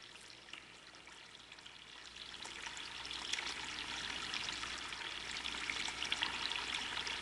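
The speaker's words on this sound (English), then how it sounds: "Have you ever heard the sound of the running water?" Running water makes a steady rushing, trickling hiss that grows gradually louder and fuller over several seconds, with no voices present.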